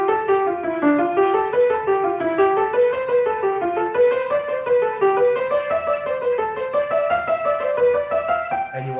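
Piano scale exercise played with both hands, stepping upward in a steady run of notes toward high G, loud and close with no voices.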